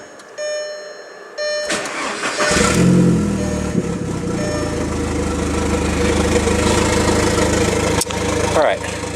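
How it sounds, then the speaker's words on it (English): A Mk4 Volkswagen Jetta 2.0 engine cranks briefly, then catches and settles into a steady, loud idle that continues close by, with a faint voice at the start. "go ahead and fire up the car real quick"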